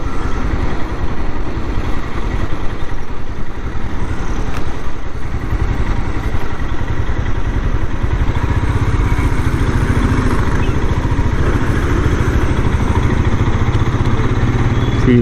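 A Royal Enfield Scram 411 motorcycle engine running steadily while riding, a loud continuous rumbling drone with wind roar that holds throughout, close and unbroken by speech.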